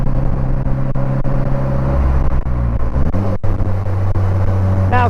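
A Polaris Slingshot engine races high in third gear at about 40, giving a loud, steady droning rumble up close with a shift in pitch midway and no talk over it.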